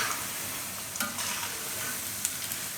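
Cabbage bhajiya fritters frying in hot oil over a low flame, a dense continuous sizzle with a couple of faint utensil taps.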